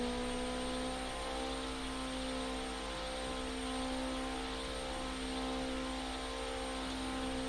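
Intercooled engine of nearly 220 horsepower held at red line during an engine showcase, a loud steady droning roar with strong constant tones and no change in pitch, running alone without voices.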